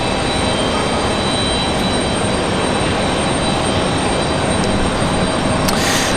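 Jet airliner arriving at Raleigh-Durham airport, a steady broadband engine roar that stays loud and even throughout, heard from a spotting position near the runway.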